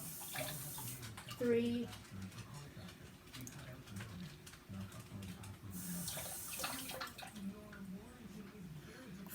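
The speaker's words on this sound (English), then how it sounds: "I put 4 teaspoons of water into this cup" Water pours into a cup during a homemade water gel experiment, a brief splashing trickle near the start with steady running-water texture while a person counts aloud.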